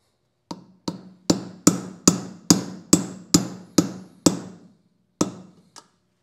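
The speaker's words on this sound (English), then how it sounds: "Light taps." Eleven light hammer taps on a socket seating a valve spring part, evenly spaced sharp metallic knocks at close range, with a short pause before the last one.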